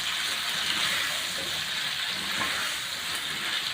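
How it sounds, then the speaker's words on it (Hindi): Finely chopped potatoes fry in hot oil in a pan, giving a steady, dense sizzle that holds at an even level throughout with faint stirring movement underneath. "अब हम इसको अच्छे से फ्राई करेंगे"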